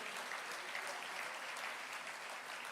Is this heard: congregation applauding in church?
yes